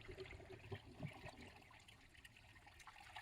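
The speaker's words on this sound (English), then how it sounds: "So water's going in through the filter there. We can hear it." Steady rushing and trickling water, faint and continuous, as water pours through the filter to fill a hot tub.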